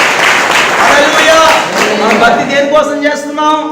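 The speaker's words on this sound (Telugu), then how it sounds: "గట్టిగా చప్పట్లు కొట్టి ప్రభుని మహిమపరుద్దాం" A church congregation claps along during a Telugu Christian sermon, a dense patter of applause filling the first half under a preacher's loud voice before fading as he keeps speaking.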